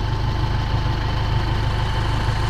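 A car engine idles steadily up close, a low even rumble with a regular pulsing throb and no change in pitch, a stock engine idling after a vacuum connection fix.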